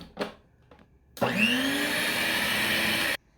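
An electric mixer whirs steadily in a bowl of flour, baking powder and salt for an orange cake. It is preceded by a couple of faint knocks, starts abruptly, runs loud for about two seconds and then stops.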